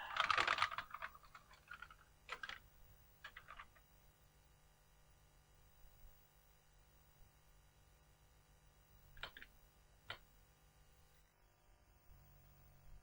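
Keys tapped on an Amstrad CPC 464 keyboard during a diagnostic test: a quick flurry of clicks at the start, a few scattered presses, then two isolated sharp taps later over a quiet background hum.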